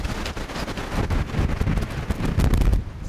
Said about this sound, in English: These gusts that come along.